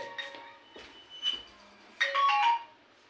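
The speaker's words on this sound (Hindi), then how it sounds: "थोड़ा सा फोन बजने लगा था" A mobile phone rings briefly during a Sanskrit lesson, giving short bright tonal melody bursts that swell loudest near the end, fairly close and with no talking over it.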